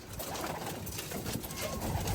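A Pakistani pigeon coos softly at a home bird house, its low, rolling calls continuing faintly and steadily with no talking.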